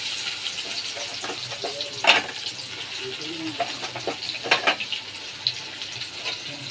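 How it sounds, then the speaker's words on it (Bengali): Onions fry in oil in a pan, tossed into the same oil used for frying potatoes along with cinnamon, giving a steady close crackling sizzle broken by a few sharp clatters of utensils. "এবার পেঁয়াজটা ভেজে নিই"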